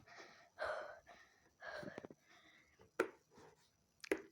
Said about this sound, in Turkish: Biraz nefes nefeseyim.